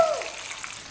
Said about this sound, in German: Und diese Petersilie kommt jetzt in das heiße Fett